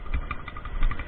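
Honda Titan motorcycle with a modified 2-into-1 exhaust running near idle, a low throbbing engine note with a steady pulsing rhythm, close and moderately loud, with no talking.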